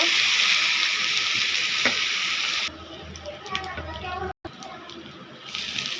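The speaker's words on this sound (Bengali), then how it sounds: "এবারে দিয়ে দিলাম আদা বাটা দিয়ে দিলাম রসুন বাটা এখন আমি সবগুলো এক মিনিট মতো ভেজে নেব" Ginger and garlic paste hits hot oil in a pan while cooking pabda fish curry, a loud steady hiss that drops suddenly to a softer crackling sizzle with brief stirring, as someone talks over it.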